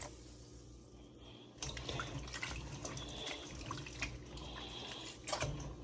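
Tap water runs into a kitchen sink as food is defrosted, a steady rushing splash that grows louder partway through and continues without any talk.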